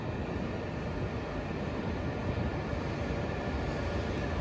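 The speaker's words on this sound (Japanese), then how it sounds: "立派な12両編成25メートル級車体の、非常に長い列車です。" A long 12-car train of 25-metre-class carriages rolls past. Its broad, steady rumble of wheels and wind holds evenly from start to finish, with no voices.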